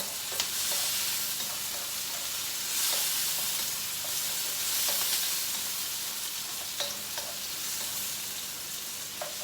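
Tomatoes and onion for chicken curry sizzle steadily in a hot pan, a continuous frying hiss broken by regular scraping taps of a ladle stirring, with no talking.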